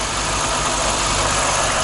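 A Moskvich 2141 car engine idles loud and close with a steady, even rumble and no voices over it.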